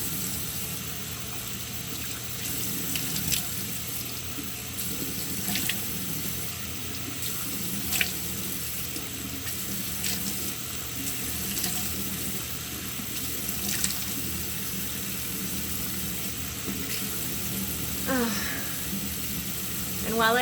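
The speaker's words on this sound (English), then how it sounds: "after 10 minutes you're just gonna rinse with cool water" Cool tap water running into a sink while someone rinses their face, a steady splashing stream with occasional louder splashes throughout.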